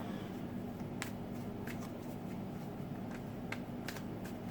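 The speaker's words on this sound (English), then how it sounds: "And while I'm shuffling and you're waiting for" Tarot cards being shuffled by hand, faint soft riffles and scattered light taps over a low background hum, close but quiet, with no talking.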